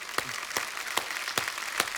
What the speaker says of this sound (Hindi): एक बार बिग बुल की पूरी टीम के लिए जोरदार तालियां हो जाएं